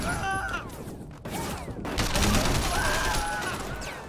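Gunfire from the Sleeping Dogs video game, a dense burst of fusillade shots under continuous game noise and music, loud and steady across the whole stretch.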